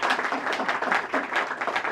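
An audience claps loudly in a burst of applause, dense and uneven hand claps rising and falling over a couple of seconds with no talk over them.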